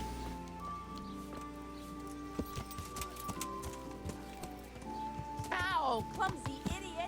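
Horse hooves clip-clop steadily in the medieval role-playing video game Kingdom Come: Deliverance, a near, rhythmic trot under layered game sounds and a brief whinny-like call near the end.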